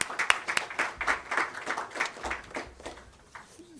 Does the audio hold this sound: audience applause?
yes